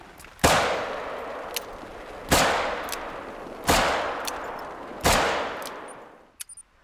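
Four loud, evenly spaced rifle shots firing hollow point rounds in the hunting game theHunter: Call of the Wild at Layton Lakes, each a sharp crack with a long decaying echo, followed by a couple of small clicks.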